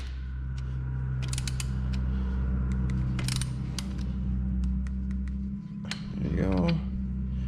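A ratchet wrench clicks in short bursts while brake caliper bolts are tightened on a Jeep, over a constant low mechanical hum. A brief creaking squeal comes near the end.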